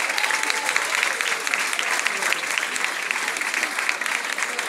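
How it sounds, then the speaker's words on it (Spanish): Loud, sustained applause from a dense crowd at a social dance party after the exhibitions, a continuous hiss of many hands clapping with no breaks. "Venga, fuerte el aplauso para él."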